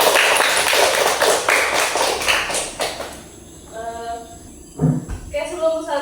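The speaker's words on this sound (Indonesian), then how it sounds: "kita kasih tepuk tangan untuk kita semua ya" A classroom group applauds together, a dense burst of clapping that fades after about three seconds, followed by a voice speaking over quieter room sound.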